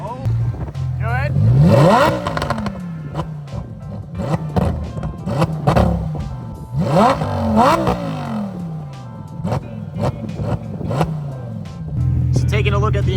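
Lamborghini Huracan STO engine revving hard in Trofeo mode, with repeated sharp throttle blips rising and falling in pitch, loud and close, and people talking over it.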